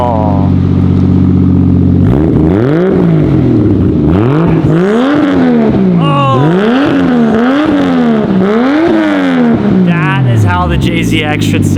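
A Toyota JZX100 Chaser with its JZ engine running without a downpipe revs loudly and close, a steady idle followed by several rising and falling throttle blips in a rhythmic pattern, with voices speaking over it.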